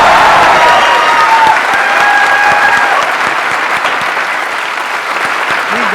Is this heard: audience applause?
yes